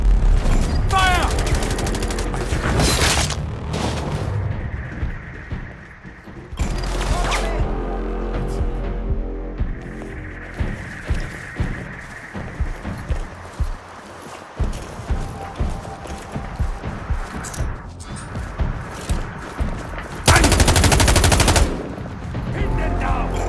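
Bursts of automatic gunfire from the shooter video game Sniper Ghost Warrior Contracts, with rapid rattling volleys and loud blasts recurring through the clip over game music and shouted voices.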